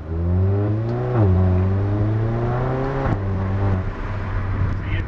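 Exhaust note of a car fitted with an EuroDyne Stage 2 tune and Circuit Werks downpipe, a steady loud drone with a slightly trumpet-like tone that dips and rises as gears shift, close and continuous.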